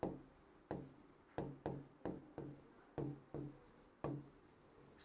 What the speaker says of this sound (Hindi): यहाँ पर लिख लेता हूँ मैं